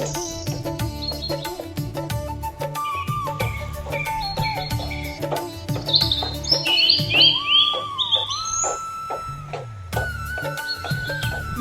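Many birds chirp and tweet in quick overlapping calls, high and bright, layered over a steady musical background throughout.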